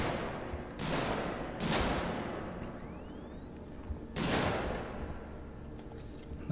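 Gunfire in the video game Alien Isolation: a few separate loud bursts spaced apart over a dim, rumbling ambient background, with no talking.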